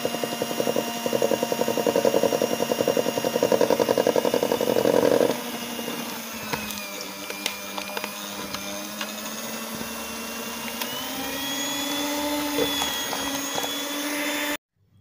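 Electric hand mixer beating butter with powdered sugar and vanilla for cookie dough, a steady close motor whine that shifts to a lower, smoother drone partway through and runs continuously until it cuts off.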